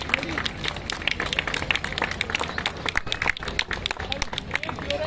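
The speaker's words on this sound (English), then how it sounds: "a huge round of applause" Audience at a prize distribution clapping for a winner called to the stage, a dense irregular patter of hands with some cheering mixed in, moderately loud.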